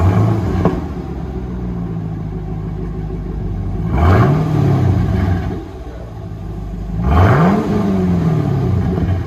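A 2012 Chevy Camaro SS with a 6.2L V8 and dual exhaust, rear mufflers cut off, revs loudly twice over a steady deep idle rumble, each rev rising sharply and then falling away, with no talk.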